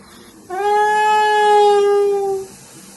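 Steam vents from the lid of an Afghan cauldron cooking plov, a steady whistling hiss that holds for about two seconds and then cuts off.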